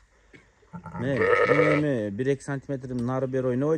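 Sheep with lambs offered for sale give a long, loud, wavering bleat followed by shorter bleats, heard close and mixed with people talking nearby.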